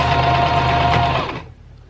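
Sewing machine stitching a seam hums steadily at close range, then winds down and stops near the end, with no talking.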